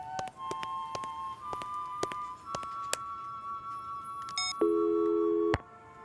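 Dead telephone line tone in a cartoon set in a department store at Christmas: scattered clicks and ticks, a steady held tone, then a louder buzzing busy-type tone that cuts off abruptly, with no voices.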